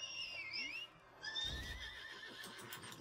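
A horse whinnies in the video game Lost Ark, a rising and falling high neigh followed by snorting and hoof clatter, fairly close and clear with no talk.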